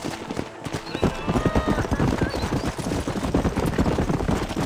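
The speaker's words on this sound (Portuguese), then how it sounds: "se calhar vamos, esta primeira viagenzinha, vamos de cavalo" A horse's hooves clip-clop steadily at a riding pace in the video game Red Dead Redemption, close and fairly loud, with a brief rustle at the start.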